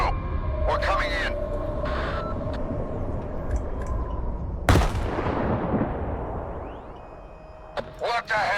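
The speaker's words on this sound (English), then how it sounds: "An explosion." A sudden loud blast in the game Stalker 2 punches through a noisy scene of gunfire-like cracks and rumble, its boom trailing off into a fading roar, with people talking around it.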